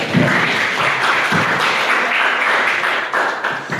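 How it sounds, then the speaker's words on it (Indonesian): Applause for a student in a university research methodology lecture class, a steady dense patter of clapping hands that fills the room at close range for the whole stretch, with no talk over it. "Terima kasih, applause buat Hugo."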